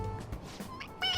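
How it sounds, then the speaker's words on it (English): Toy cat meowing when its head is pressed in Persona 5 Royal, a short synthetic meow followed by a brighter, louder mew, close and clear with no talk. "It meows when you press on its head."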